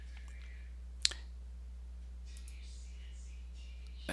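A single crisp computer mouse click opening the OpenShot video editor, close and distinct over a steady low electrical hum, followed by faint rustling and a second soft click at the end.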